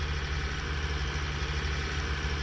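A tractor with a power shift transmission idles steadily in Farming Simulator 19, giving a constant low, rumbling drone with no talk.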